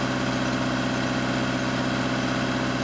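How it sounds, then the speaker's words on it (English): A steady engine idle with a constant whirring drone of the radiator cooling blower fan running, close and even throughout, no voices. "Blower turns on."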